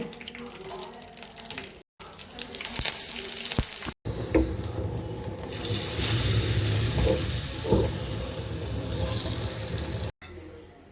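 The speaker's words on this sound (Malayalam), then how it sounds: "എണ്ണ ചൂടായതിന് ശേഷം കടുക് ഇടുക രണ്ട് ഉണക്കമുളക് പൊട്ടിച്ചിടുക" Mustard seeds and two dried red chillies splutter in hot oil for a potato curry, making a loud, dense sizzling hiss close by. A few brief cuts break the sound.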